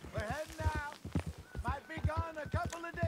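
Horse hooves clip-clop at a steady walking rhythm in Red Dead Redemption 2, close and clear, with a voice talking over the hoofbeats.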